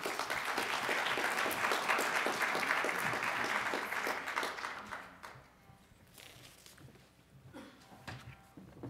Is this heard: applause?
yes